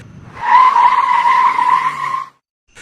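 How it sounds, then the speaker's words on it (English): An SUV skids hard on asphalt, its tires letting out one loud, sustained screech for about two seconds before cutting off abruptly into silence. "The vehicle fishtailed violently, skidding sideways before coming to a jarring, bone-shaking halt just inches from the deep drainage ditch"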